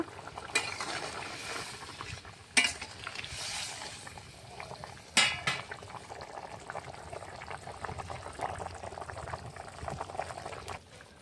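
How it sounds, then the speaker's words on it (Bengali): Fish curry broth at a rolling boil with fried fish added, a steady close bubbling and simmering with a couple of sharp clinks from a utensil against the pot. "ঝোলটা ফুটে উঠেছে ভেজে রাখা মাছগুলো দিয়ে দেবো মাছ দিয়ে কিছুক্ষণ ভালো করে ফুটিয়ে নেব"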